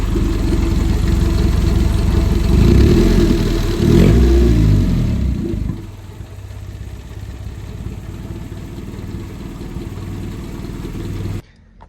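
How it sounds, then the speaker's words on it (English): A Honda EK Civic engine idles roughly and unevenly near 600 rpm, with a ragged, wavering low rumble. It revs up and falls back a few times early on, then settles into a steady, slightly lumpy idle. "something has caused my idle to become extremely wonky now, sitting at around 600"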